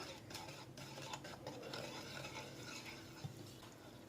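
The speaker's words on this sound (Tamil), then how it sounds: "மாவெல்லாம் போட்டதுக்கு அப்புறமா நல்லா கலந்துக்கலாம்." Flour is folded by hand into an eggless cake batter in a bowl, giving faint, continuous soft scraping and sloshing with a small knock near the end.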